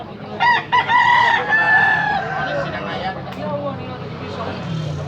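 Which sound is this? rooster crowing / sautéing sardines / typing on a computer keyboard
rooster crowing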